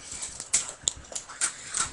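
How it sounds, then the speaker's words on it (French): An aggressive dog in the Minecraft video game makes short, repeated snarling yelps in a quick irregular rhythm, close and clear, with no talking. "chien il a vraiment agro."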